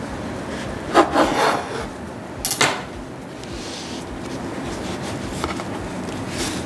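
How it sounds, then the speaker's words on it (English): A knife saws through a loaf of keto almond flour sourdough bread in a few short, close rasping strokes, with quiet pauses between them and no talking. "we forgot one thing, and that is to cut into the bread"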